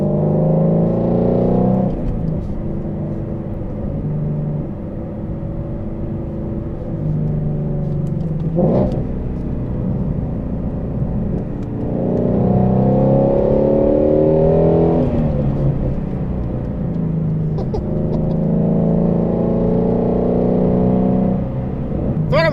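A Shelby GT350 accelerates hard, its engine roaring loudly and rising in pitch through two long pulls broken by a brief dip, all heard close from inside the car.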